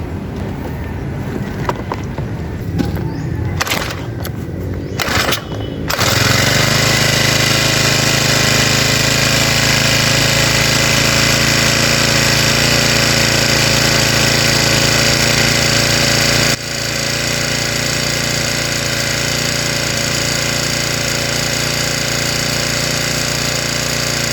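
A lawn mower engine starts up after some handling noises and then runs steadily and loudly, a constant droning rumble that drops slightly in intensity partway through but keeps going without pause.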